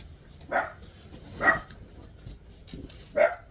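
A small dachshund barks four times with pauses between, moderately distant, over a quiet background.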